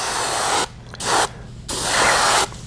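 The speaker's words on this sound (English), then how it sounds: "we'll spray the whole bait with pearlized white" An airbrush or spray gun hisses in three short bursts as pearlized white paint coats a fishing bait, close and clear with brief silences between.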